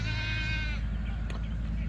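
A goat doe bleats once, a loud, close, wavering cry that lasts under a second and then fades into steady background noise.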